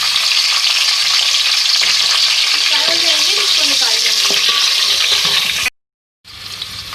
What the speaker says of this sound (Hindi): अब ऑयल में जो है जो मैंने गोभी को मैंने 2 बॉयल में निकाल लिया था उसको मैं फ्राई करूँगी